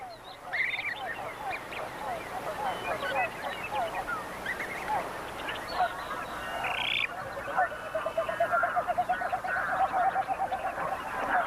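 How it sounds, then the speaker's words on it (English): Canada geese with broods of goslings call in a nesting wetland, honks and quacking calls repeating steadily over a busy chorus of other birds and frogs, moderately close throughout. "The wetlands where the cranes nest are also used by Canada geese."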